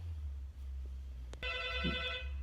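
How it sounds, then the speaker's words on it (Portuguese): A telephone rings once with a bright, buzzing electronic trill that starts abruptly after a short click and continues steadily, heard alone and fairly close over a low room hum. "telefone tocando."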